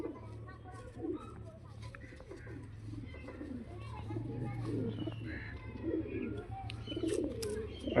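A coloured pigeon coos in low, soft repeated murmurs close by, with other bird chirps scattered over a steady low hum and people talking throughout.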